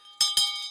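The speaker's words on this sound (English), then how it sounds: "ring the bell." Bell rung for a morning roll call at an online devotion, two quick bright metallic strikes close together, each ringing on briefly with a sustained tone.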